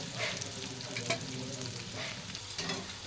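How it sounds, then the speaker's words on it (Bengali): Ginger, garlic and chopped green chilies fry in a pan for chili chicken, a steady close sizzle with occasional stirring scrapes. "আদা রসুন আর কাঁচা লঙ্কা ভালো করে ভেজে নিয়েছি"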